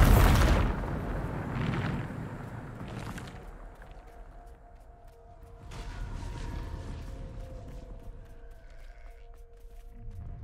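Bombarda spell explosion in Hogwarts Legacy, a heavy booming blast at the start followed by rumbling debris and lingering echoes that fade into quieter game ambience.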